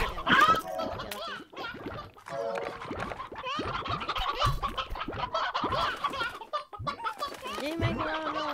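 Chickens cluck and squawk continuously at close range in the video game Slime Rancher, and a rooster-like call rises near the end. Voices are mixed in with the birds.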